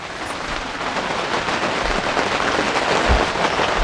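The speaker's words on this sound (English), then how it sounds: "So anyways, it's raining" Steady rain falls on and around a boat anchored on Rice Lake, a dense, even hiss that holds for the whole stretch with no voices.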